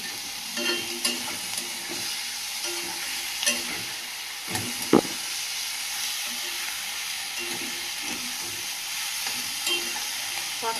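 Leafy greens stir-fried in oil in a pan for a Bengali home meal, a steady close sizzle with soft stirring scrapes and occasional clinks of the spatula throughout, no voices.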